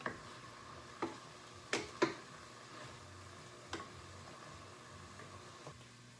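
Cauliflower risotto with garlic simmers quietly in a pan, a soft steady bubbling broken by a few sharp clicks and taps of a utensil against the cookware.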